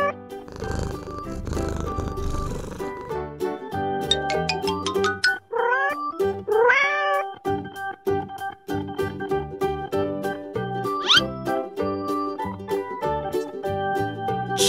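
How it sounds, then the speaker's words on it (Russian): A cat meows in a string of drawn-out, rising and falling cries, close and clear, with purring and growling textures, in a children's animal-sounds lesson. "Кошка."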